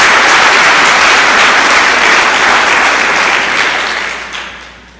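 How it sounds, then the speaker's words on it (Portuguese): A church congregation at a Portuguese-language worship service breaks into loud, full applause that holds strongly for several seconds, then fades away toward the end. "Dê uma salva de palmas a Jesus."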